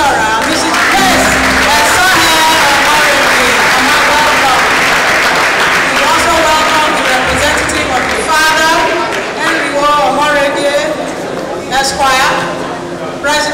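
An audience at a lecture applauding in a steady, dense wash of clapping that lasts the whole stretch, with a voice talking over it through much of the time.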